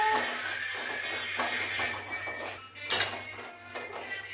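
Roasted semolina (rava) for kesari tipped out of a metal pan: soft scraping and grainy rustling with light metallic clinks of pan and spoon, close and fairly quiet, with no talking.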